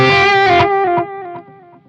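Electric guitar played through the Guv'nor overdrive on a Zoom G3X HD multi-effects pedal with delay, a few driven notes ringing out and decaying, close and loud.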